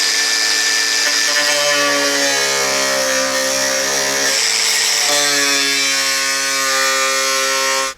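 A power tool whines steadily at close range while cutting rusted sheet metal on a Jeep Cherokee XJ, loud and continuous with its pitch dipping and recovering as it bites, then cutting off abruptly at the end.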